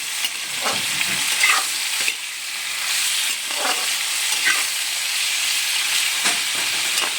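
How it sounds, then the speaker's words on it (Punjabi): Pieces frying in a moderate amount of oil in a pan, before any salt or spices go in: a steady, close broadband sizzle with periodic scraping stirs, no voices. "ਇਹਨਾਂ ਨੂੰ ਅਸੀਂ ਬਸ ਤੇਲ ਵਿੱਚ ਫਰਾਈ ਕਰਾਂਗੇ ਘੱਟ ਤੋਂ ਘੱਟ 5-7 ਮਿੰਟ"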